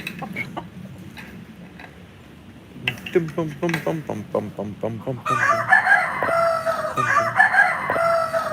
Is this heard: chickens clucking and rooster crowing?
yes